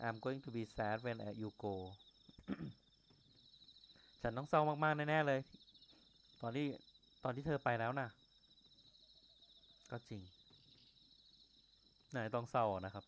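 Frog croaking ambience in the night game Yomawari: Midnight Shadows, a thin, steady high chirring that runs continuously beneath intermittent voices talking.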